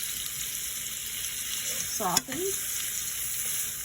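Tomatoes sizzle steadily in a pan over medium-low heat while being stirred for sausage rigatoni, with a brief scrape of the utensil midway and a soft spoken word over the constant frying hiss.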